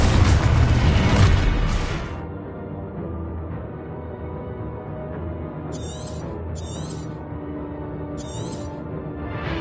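Spell explosions in the video game Hogwarts Legacy, a loud booming blast in the first two seconds that fades into a low rumbling game ambience, with a few short crackling magical bursts later.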